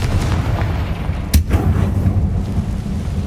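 The Confringo fire spell in Hogwarts Legacy bursts as one sharp blast amid a rumbling game soundscape, with a brief crack and a rolling boom-like tail.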